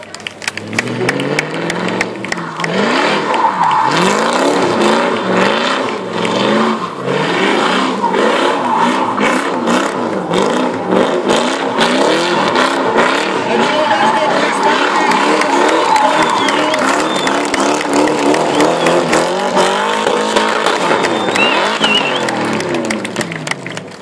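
A drift car at a rally drift event in Vidin revs hard with rising and falling engine sweeps and tyre squeal, loud and close throughout, while a crowd cheers and claps and an announcer talks over the noise.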